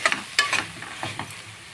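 Cauliflower pieces fry in hot oil with masala while a spoon stirs and scrapes the pan, giving a soft sizzle broken by a few brisk, uneven stirring strokes close by.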